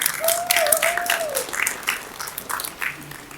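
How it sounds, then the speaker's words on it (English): An audience at an annual community meeting in Minneapolis's Loring Park neighborhood applauds in a dense, steady clatter of many hands that slowly tapers, with a brief whistle early on. "So round of applause."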